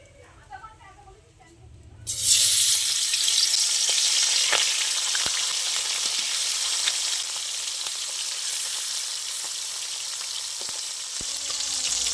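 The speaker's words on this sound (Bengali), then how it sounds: "এবার আমি উনুন দাঁড়িয়ে মাছটা ভেজে নেব" Khoira fish in white oil in a wok sizzles suddenly and loudly after a quiet start, then settles into a steady, close frying hiss.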